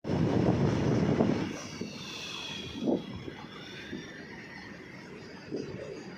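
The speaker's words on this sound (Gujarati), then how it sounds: "એક બાજુ આવે છે ટ્રેન" A train rumbles past at a distance, a low broad roar that fades, with a few brief clanks and a faint high whine over it.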